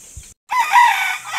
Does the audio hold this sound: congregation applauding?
no